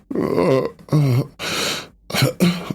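A voices a series of low, drawn-out groans and grunts, close and fairly loud, breaking off into a throat-clearing sound, imitating a groan.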